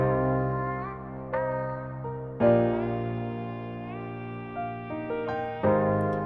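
A sung vocal line with a short eighth-note ping-pong delay echoing each phrase, bouncing repeats trailing behind the held notes in a trap mix; no talking.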